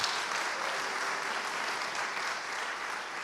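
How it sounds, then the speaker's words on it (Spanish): A church congregation claps together during a Spanish-language Christian sermon, producing a dense, continuous wash of applause at an even level from start to finish. "Denle un aplauso al Señor Jesucristo, hermano."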